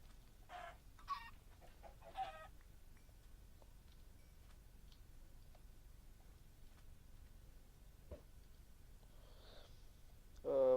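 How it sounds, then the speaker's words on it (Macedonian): Chickens cluck in a Minecraft game world: a few soft, short clucking bursts early on and another near the end, faint over a low steady background, with no one talking. "Кај имаше кокошки, еве ги."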